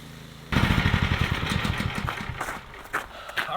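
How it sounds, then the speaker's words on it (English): A snowblower starts up abruptly and runs steadily, its engine chugging loud and close while it throws snow, the roar easing slightly toward the end. "All right, so we got the snowblower there."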